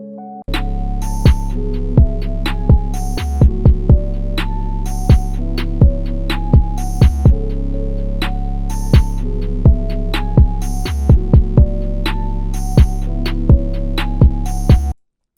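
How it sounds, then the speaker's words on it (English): A music mix pushed louder with soft clipping plays alone at high level: a dense, heavy low end under a steady sustained tone, with regular bright percussive hits marking a repeating beat throughout. "we're using soft clipping to make it louder"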